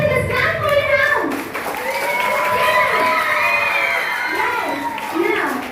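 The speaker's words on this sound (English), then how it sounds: "Clap for your house." Children in a school audience clap, cheer and shout for their houses at an interhouse junior quiz, a loud, continuous crowd roar with excited young voices rising and falling throughout.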